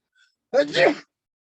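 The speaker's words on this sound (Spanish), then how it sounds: "me voy a estornudar" A single sudden human sneeze bursts out during a Spanish-language calculus lecture, a short loud explosive blast lasting about half a second, surrounded by silence.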